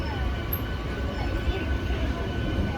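A MEMU passenger train running between Ballari and Hosapete, with a steady low rumble and rolling noise heard from on board, continuous and fairly loud.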